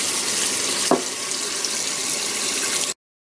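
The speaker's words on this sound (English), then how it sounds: "I'm going to wash my chicken legs with some salt, just like we did with the bones." Chicken legs are washed with salt under a running kitchen tap, a steady close gush of water with a brief splash partway through, ending abruptly.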